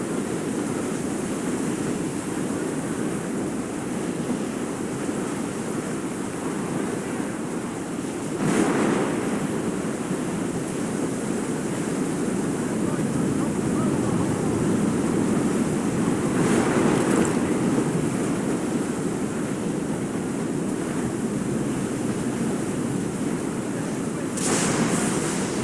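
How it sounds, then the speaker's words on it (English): Ocean waves and wind from the sailing game Assassin's Creed IV: Black Flag roar as a steady wash of surf and gusts for a long stretch, with a few brief swells and no voices. "Killer waves to starboard!"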